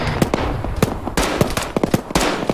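Rapid gunfire in the military video game Arma 3, a loud run of sharp shots in quick bursts with a few brief pauses, close and steady throughout.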